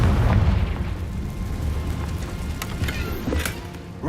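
The Confringo blast spell explodes in Hogwarts Legacy with a heavy boom that rumbles and fades. Smaller pops and bursts follow.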